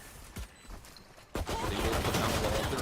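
Pistol gunfire in the video game Valorant, heard as a few sharp isolated shots followed by a dense burst of rapid fire, with a match commentator talking over it.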